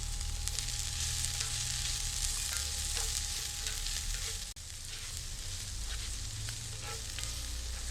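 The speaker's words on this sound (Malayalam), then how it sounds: "ഇഞ്ചി കട്ട് ചെയ്തത്, പച്ചമുളക് കട്ട് ചെയ്തത് ഇവ ചേർത്തിട്ടൊന്ന് ചെറുതായിട്ടൊന്ന് വഴറ്റിയെടുക്കാം" Chopped ginger and green chili sauté in a hot pan, giving a loud, continuous sizzle with occasional stirring scrapes and a steady low hum nearby.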